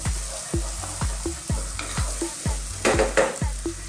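Fresh curry leaves fry in a hot pan, a crackling sizzle broken by about a dozen rhythmic scraping strokes of a spoon stirring, close and fairly loud.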